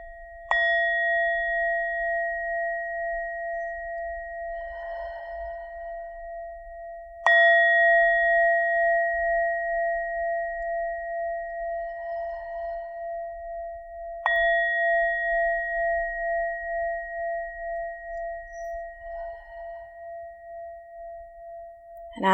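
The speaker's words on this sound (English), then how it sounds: "We're going to take 3 breaths together with the sound of the bell." A bell rings three times during a gentle Hatha yoga breathing exercise, each clear tone struck crisply and left to ring out slowly over several seconds, with quiet between strikes and no talking.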